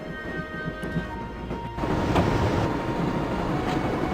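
A train rumbles and clatters steadily in Broken Sword, with a low continuous roll that grows louder partway through and carries on without speech.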